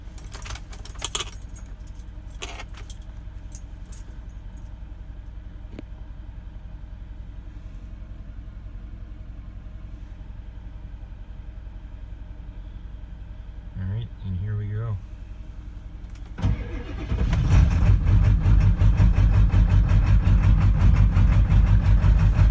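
Keys jangle in the cab of a Ford diesel truck on a very cold day. A long quiet wait follows, then the engine cranks, catches and settles into a loud, rough, close-up idle.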